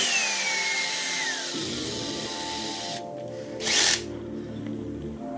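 Power drill running steadily while building a custom inverted pedal set for a Logitech G920 wheel, a continuous whirring drone with a brief louder burst near the end, close and without talk.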